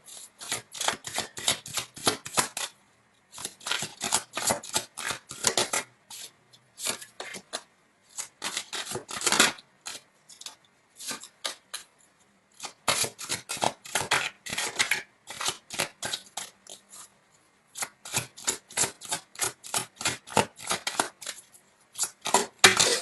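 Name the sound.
tarot cards being shuffled and drawn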